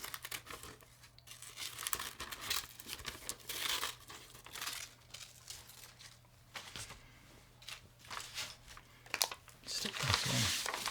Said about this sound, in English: So maybe I'll cut out a strawberry shape from here.